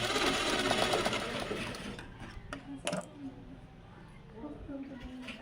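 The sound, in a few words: sewing machine stitching a tuck in fabric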